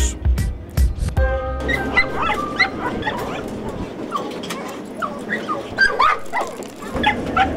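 Dogs in a Texas jail training program bark, yip and whimper excitedly. Sharp loud barks come first, then a dense chorus of high whines and yips continues, close and busy, with a voice faintly mixed in.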